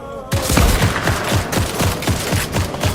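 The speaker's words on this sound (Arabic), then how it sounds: "رصاص سريع" Rapid automatic gunfire in the video game Fortnite: a fast, even burst of roughly a dozen loud, close shots in quick succession.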